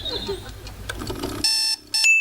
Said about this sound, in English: This is a 1960s Japanese-made alarm clock made by the Digimate brand.